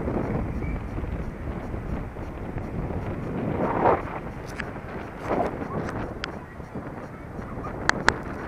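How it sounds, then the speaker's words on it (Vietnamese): Wind at night on the front beach at Vung Tau rumbles in low, steady gusts against the microphone, with faint distant honks and traffic and occasional short sharp sounds in the background. "Này gió rất là mát."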